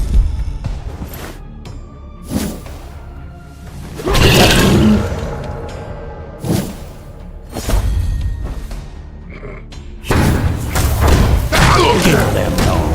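Abyssal bombardment attack in the dark-fantasy game Iratus: Lord of the Dead, set in dwarven mines: a run of heavy booming thuds and roaring impacts in separate bursts, with loud sustained blasts near the start and end, under occasional talk.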